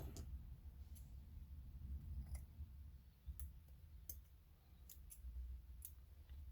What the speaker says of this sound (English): I might cut that off.